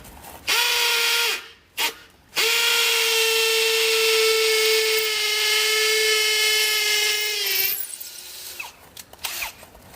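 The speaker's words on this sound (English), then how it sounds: "I'm going to center my pole, mark it, and pre-drill my first hole." A power drill bores a pilot hole into a pole while a gate is being installed, running loud and close with a steady whine that dips briefly and restarts, then winds down near the end.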